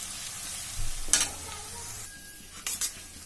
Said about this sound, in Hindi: सभी मसालों को अच्छे से पकाएंगे। गोल्डन रेड होने तक पकाते हैं सभी मसालों को।